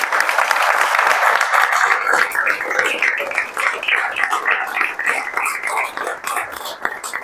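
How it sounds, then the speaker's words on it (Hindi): Sustained audience applause at a student results celebration honoring JEE Main 2024 scorers, dense steady clapping from a crowd, fairly close and continuous throughout with a slight rise and fall. "इसके लिए आप लोग ताली बजा दीजिए।"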